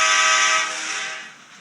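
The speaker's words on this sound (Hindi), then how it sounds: "यहाँ से मैं हॉर्न करा सकता हूँ" A single sustained vehicle horn honk in Indian Bike Driving 3D, loud at first and then fading away, with no other sounds.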